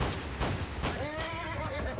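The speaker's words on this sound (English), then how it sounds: "I'm gonna get a horse." Horse in the video game Gun gives a loud whinny with a quavering, descending neigh, close by, over rustling hoof and movement noise.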